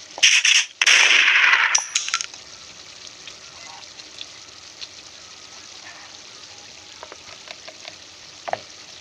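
Chicken gizzards frying in a pan as ginger paste goes in: a loud, hissing sizzle bursts up at first, then settles into a steady low sizzle with a few faint clinks.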